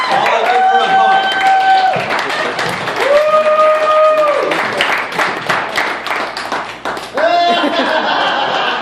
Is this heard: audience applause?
yes